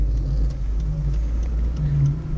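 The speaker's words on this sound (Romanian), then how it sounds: "Uite că vine o mașină" A car draws near on the road, its engine giving a loud low hum that rises and falls slightly over a few seconds.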